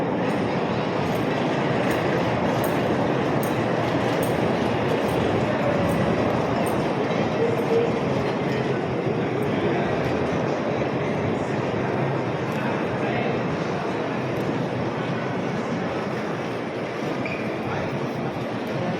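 A train rumbles past continuously, with a steady roar of wheels on rails and faint squeals, close and loud throughout.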